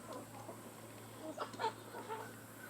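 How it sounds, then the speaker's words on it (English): A broody hen sits in a nest box and gives soft, low clucks, faint and close against quiet background hum, a few short murmured notes clustering in the middle. "Look who's in a nest box acting all broody while everybody's out there eating scratch."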